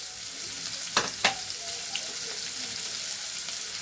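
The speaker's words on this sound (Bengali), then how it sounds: "রসুনটা একটুখানি নেড়ে নিয়ে তারপরে পেঁয়াজটা দেব।" Garlic, then onion, are stirred and fried in a pan with a steady hiss of hot oil, punctuated by two sharp utensil scrapes early on and a few lighter taps afterward.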